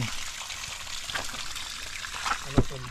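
River water trickles and flows over stones during night-time shrimp catching, a soft, steady babble at moderate level, with people talking over it and a sharp knock near the end.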